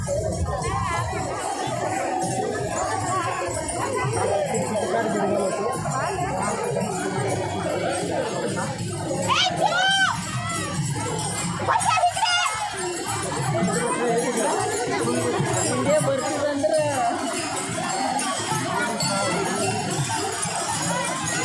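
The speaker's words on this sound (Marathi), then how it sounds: "पाठी माऊलींच्या मा रथामागे ही गर्दी अभाट गर्दी" Huge dense crowd of pilgrims following the Mauli palkhi chariot through Dive Ghat, a continuous roar of chatter and movement with bells jingling and occasional shouts, voices talking throughout.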